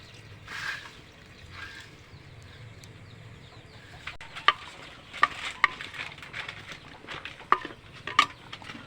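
A pot of mixed vegetables simmers in coconut milk, giving a soft, low sizzle throughout, while a utensil scrapes and clinks against the pot in scattered sharp taps, especially in the second half.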